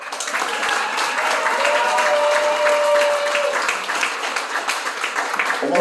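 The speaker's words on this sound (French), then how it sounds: "je voulais qu'on vous applaudisse très fort." A concert crowd at a Hochelaga music event claps loudly and continuously, the dense applause holding strong before easing slightly toward the end, with a brief whistle-like tone in the middle.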